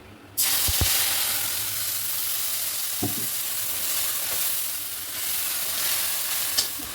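Ground ginger, cumin and chili paste hits hot oil with whole cumin seeds, breaking into a loud, steady sizzle that hisses on without pause, marked by a few soft knocks of a utensil.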